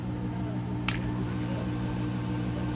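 Ceiling fan switched on at 240 volts after its bearing was greased, giving a steady low motor hum with a brief sharp click from the switch, running on alone without talk.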